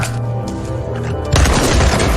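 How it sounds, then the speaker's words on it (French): A single loud gunshot from an AK-47 cracks out sharply and echoes heavily after a quieter stretch, ending in a sustained booming rumble. "Le coup de feu retentissant alerta immédiatement les gardes."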